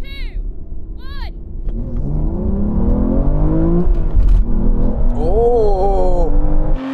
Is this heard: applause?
no